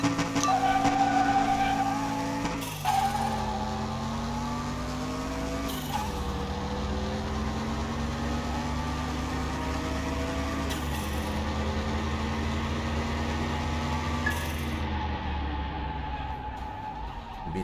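Mercedes-Benz inline-six engine from Car Mechanic Simulator 2021, revving loud and sustained through a run of rising pitches, with brief dips at each gear change and faint tire squeal mixed in.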